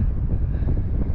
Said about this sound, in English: it is still quite windy actually when you get into the exposed areas